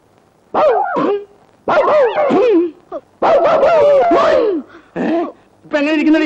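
A man in an old Malayalam film scene imitates a dog barking with a series of loud, yelping, whining vocal bursts separated by short pauses. He sounds close, and no other talk is heard.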